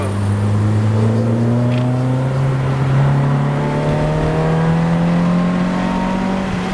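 Citroën Saxo VTS 90 engine pulling steadily up through the revs as the car re-accelerates, a loud continuous rising drone with climbing harmonics and no talk over it.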